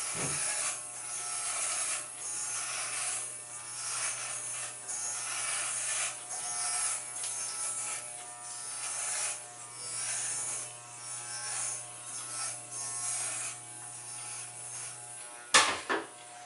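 Electric hair clippers with a number one guard buzzing steadily through a men's fade haircut, a continuous close whir with slight changes as they pass over the hair, ending with a short knock.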